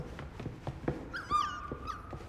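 A puppy whimpers indoors, a few thin high whines rising and falling near the middle, set among soft thumps and light handling noises at a quiet level.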